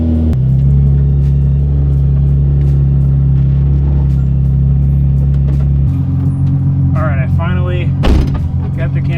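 Cabin drone of a Nissan 350Z being driven with its transmission insulation removed: a loud, steady low engine hum that drops and shifts pitch partway through, with a few faint clicks and a brief thump near the end.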